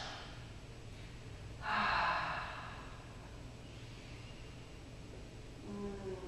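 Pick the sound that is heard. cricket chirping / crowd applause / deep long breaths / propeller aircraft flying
deep long breaths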